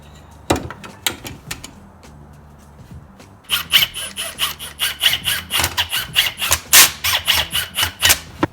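Small plastic tabs are snapped and rasped off a car speaker adapter for a Mazda 6 rear door, starting with a few sharp cracks and then a steady run of close scraping, grinding strokes.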